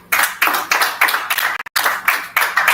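A single pair of hands claps in steady, evenly spaced bursts at close range, with a brief pause midway, at a business summit.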